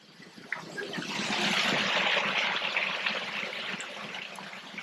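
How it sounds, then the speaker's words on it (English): A small waterfall on Dartmoor, Devon, gives a steady broadband rush of falling water that swells after the first half second and holds even, heard from close by with no talk. "Archer, I've found your secret waterfall"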